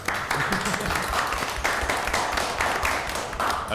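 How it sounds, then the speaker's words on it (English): Attendees at a town selectmen meeting clap in a room, a dense sustained patter of many hands from a modest crowd, alone without speech. "We can clap."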